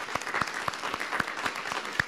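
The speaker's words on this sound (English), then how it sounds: "You can give him a round of applause there." A church congregation applauds during a Sunday gathering, a brief burst of steady hand clapping from a moderate-sized crowd with distinct individual claps.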